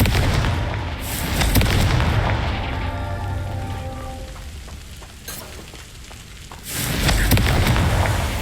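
A Confringo fire spell bursts in the Hogwarts Legacy video game, a loud rumbling blast with crackling debris that fades, then a second heavy boom rolls in near the end, all without speech.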